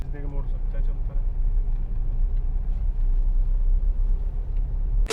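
Inside a car, a learner drives in gear while the engine hums in a steady, loud, low rumble that continues without a break, with a brief higher noise at the very end.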